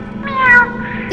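A single cat meow from the video game Animal Company, a clear, fairly close rising and falling cry about a second long, with no talk over it.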